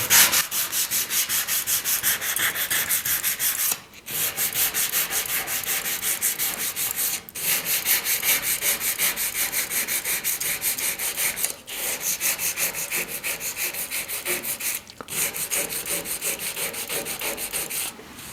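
Sandpaper rubs back and forth along the edges of plastic louvres on a scale model rally car, a continuous close rasping scrub in long runs separated by brief pauses, with no talking.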